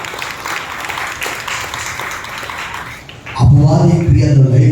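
A church congregation at a Sunday worship service claps loudly in a dense, steady wash of applause for about three seconds before a voice cuts in over the fading clapping.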